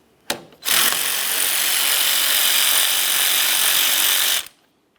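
A power tool whirs steadily for about four seconds, loud and close, backing out the single 13mm mounting bolt on a power steering pump reservoir of a 2007-2017 Jeep Patriot, after a short initial burst.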